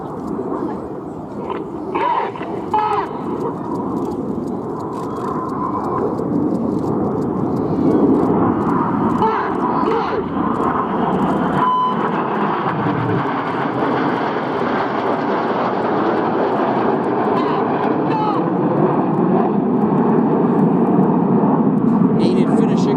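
RAF Red Arrows jets fly rollbacks at an air display, a loud, continuous engine roar that builds and sweeps overhead, with a commentator talking throughout over the jet noise.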